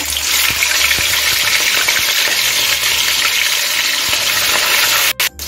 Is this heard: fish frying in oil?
yes